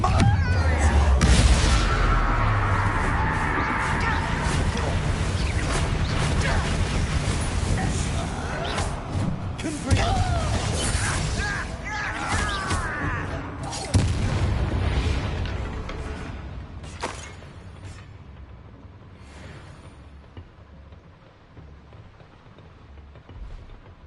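Loud magical blasting explosions from the Confringo spell in Hogwarts Legacy, booming bursts at the start and around ten and fourteen seconds amid dense game combat noise, with a voice speaking over it.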